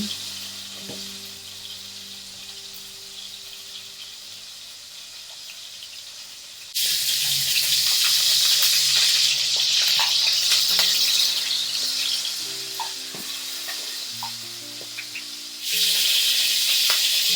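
Sausage frying in a pan for braised sausage and lima beans: a loud, steady hiss of spitting fat that surges as the lid comes off, over a quieter simmer and faint background music.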